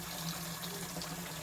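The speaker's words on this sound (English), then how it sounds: "So then we'll add some cold water" Cold tap water runs steadily into a bowl for soaking figs, a continuous close-up gush of filling water with no talking.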